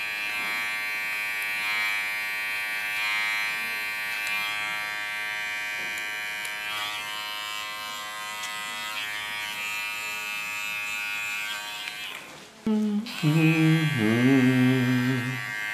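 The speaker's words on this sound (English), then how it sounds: "Control my line with a clipper, but still using my comb as a guide." Electric hair clipper buzzes steadily up close while lining hair against a comb guide, the hum shifting pitch and getting louder near the end as the blade changes contact.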